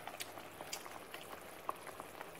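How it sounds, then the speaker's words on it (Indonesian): A pot of vegetables and enoki mushrooms starts to boil, faint scattered bubbling pops and small liquid blips over a quiet background, close and gentle with no talking. "Ah, mulai mendidih."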